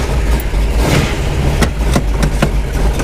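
A candy apple red Corvette Stingray engine rumbles loudly from inside the cabin, a deep steady growl with several quick sharp pops or blips layered on top across a few seconds.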